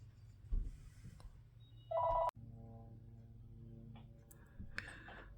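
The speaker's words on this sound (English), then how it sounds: "sorry the phone rang and I wanted to stop this" A telephone indoors gives one short electronic ring burst that cuts off abruptly, heard alone against a quiet room hum with some faint rustling.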